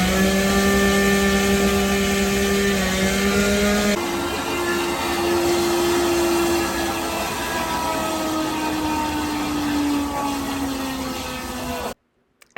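A hydro jetting machine roars continuously while cleaning out a detached cast iron sewer pipe clogged with calcium buildup, a loud droning hum that shifts tone partway before cutting off abruptly near the end.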